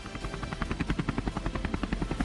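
Military helicopters, two Dhruv and two ALH Rudra, fly past in formation during a Republic Day flypast, their rotors producing a loud, rapid, steady thumping chop that fills the air.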